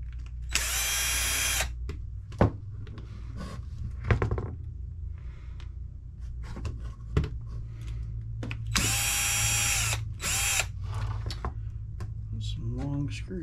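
Cordless power screwdriver backing screws out of the chassis of a Losi Mini-B RC car during a late model conversion, with two loud whirring bursts separated by clicks, handling noise and low background hum.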